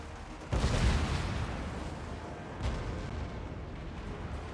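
Massed troops firing in Total War: Warhammer 2, a heavy booming volley followed by a rumbling tail and a second, softer volley a couple of seconds later over continuous battle noise.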